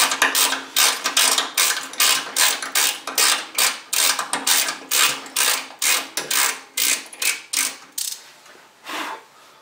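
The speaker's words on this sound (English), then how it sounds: "This is a ratcheting tap handle, which makes it a little easier and quicker," A ratcheting tap handle clicks through repeated short turns, a steady series of crisp metallic ratchet bursts in an even rhythm, close and clear, slowing and spacing out toward the end.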